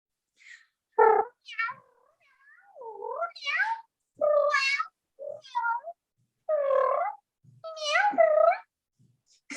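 A person imitates a cat's meow in a veterinary clinic, making a series of about eight to ten drawn-out, pitch-bending meows with short pauses between them, close and clear.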